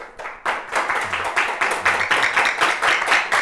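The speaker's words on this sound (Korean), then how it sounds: "박수!" A small group of people clapping steadily, with rapid, fairly even hand claps close by and continuing throughout without talk.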